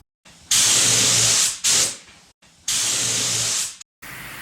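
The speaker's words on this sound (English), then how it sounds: "The maple pieces will be the first to be sprayed." A spray gun lays finish onto unassembled maple pieces of a quilt ladder in a workshop, giving loud, steady airy hisses in a few bursts of about one second each, separated by brief silences.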